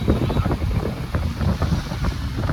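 Steady wind rushes and buffets the microphone while sea waves wash continuously underneath at the Kunkeshwar coast in monsoon, a dense, rumbling outdoor roar with no voices.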